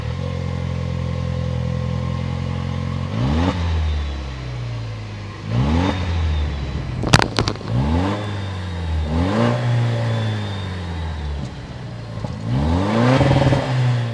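Engine of a 2026 Toyota Land Cruiser, the 2.4-liter turbocharged iForce Max hybrid, settles into a steady idle and then gets about six sharp revs, each rising and falling back, loud and close, with no talking.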